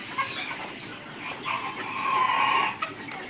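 Roosters on a poultry farm cluck and let out a crow, their calls rising into a louder, drawn-out stretch midway before tailing off, with no talking.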